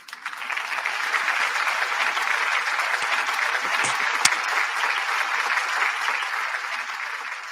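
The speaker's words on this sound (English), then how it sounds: "Man, y'all give Hog Ball a round of applause." People in a room clap for a new channel member, steady moderate applause from a small group throughout, with a couple of sharp louder claps near the middle.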